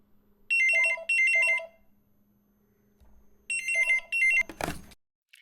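A telephone rings in two pairs of electronic trills separated by a pause, clear and close against a quiet hum, ending with a short rustling thud as it is picked up.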